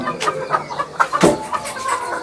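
An Aseel rooster and hens cluck close by in a poultry pen, with a run of short, uneven clucks and a couple of louder sharp calls.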